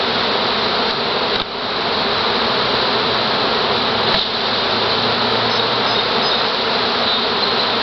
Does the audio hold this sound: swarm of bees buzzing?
yes